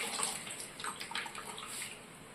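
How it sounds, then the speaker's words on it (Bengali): Water is poured into a dish of cornflour slurry while paneer is being cooked, a soft continuous splashing trickle that stays fairly quiet and unbroken throughout. "দেখুন থালার মধ্যে জলটা দিয়ে দেবো।"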